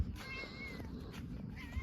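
A kitty on a Texas ranch meows twice, a drawn-out wavering cry followed by a shorter one, close and fairly quiet.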